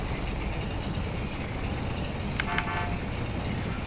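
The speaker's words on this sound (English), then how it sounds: "At least the horn works." A car horn in GTA 5 sounds a couple of short toots, heard over a steady engine hum and background noise, fairly close.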